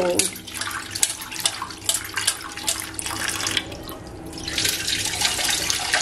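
Prawns being rinsed in a bowl under running tap water, with splashing and swishing bursts over a steady flow, and a person talking faintly in the background.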